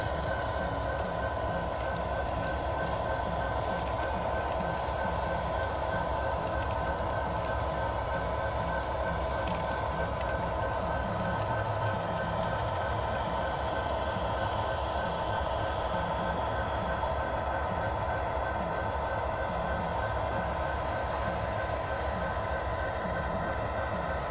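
A CSX model train runs along a small loft layout, its motor and wheels giving a steady, fairly faint rumble with light rhythmic rail clicking throughout, no voices.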